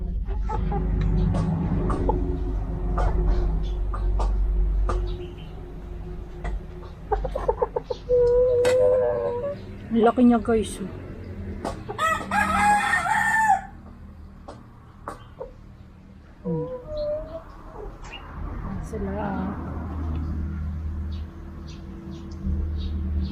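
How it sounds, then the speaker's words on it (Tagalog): Chickens cluck and squawk nearby as they peck at feed amid farmyard noise, with one louder burst of rooster crowing; a person speaks briefly. "tara magpatuka tayo sa manok"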